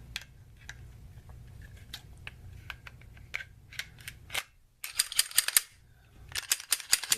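Small metallic clicks and snaps of a pistol being put back together, with a barrel and recoil spring fitted, then sharper clacks of the slide being racked, close and intermittent with short pauses between.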